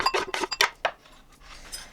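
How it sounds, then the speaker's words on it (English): A tablespoon crushing finely diced onions in a bowl, with a quick run of sharp clinks and scrapes of metal on the bowl in the first second, then softer scraping. "crush it well with a tablespoon"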